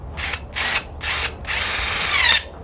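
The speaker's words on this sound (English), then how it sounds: "I use the drill to attach this" A power drill drives in to attach a hanger to a natural-material winter wreath, three short whirring bursts followed by one longer run, loud and close with no talk.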